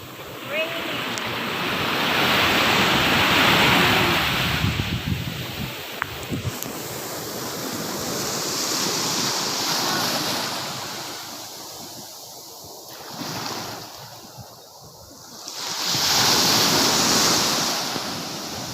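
Ocean surf at Infanta, Quezon rolls and crashes in broad washes, swelling and fading over and over, with wind buffeting the microphone and a few voices faintly underneath.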